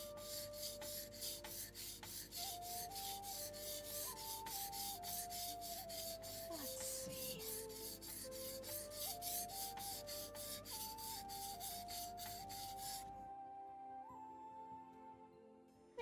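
A blade with a burr being worked over a whetstone: steady, close, continuous rasping strokes for about thirteen seconds, then it stops abruptly, with a faint tonal hum running underneath.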